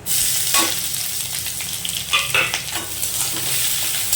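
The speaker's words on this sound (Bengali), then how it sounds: "ফোড়নটা ভাজা হয়ে গেছে দিয়ে দিলাম পেঁয়াজ কুচি" Chopped onion hits hot oil already tempered with cumin, bay leaf, dry chilli, cardamom, clove and cinnamon. It gives a bright, crackling sizzle broken by a few quick scraping stirs, close and alone.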